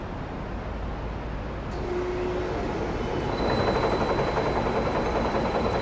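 A remanufactured CNH engine is turned over on a spin tester without firing, making a loud, continuous mechanical drone that swells and gains a thin high whine as the speed ramps up.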